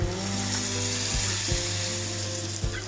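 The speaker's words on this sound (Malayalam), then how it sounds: "ഞാൻ ഈ മിക്സ് ചെയ്ത ഈ പൊടിയെല്ലാം നമുക്ക് ഈ കടുക് വറുത്ത ഇതിലേക്ക് ഒഴിച്ചു കൊടുക്കാം." Spice powder mix poured into hot oil with spluttered mustard seeds for a chickpea curry, giving a loud, steady sizzle with a few sharp crackling bursts and no talking.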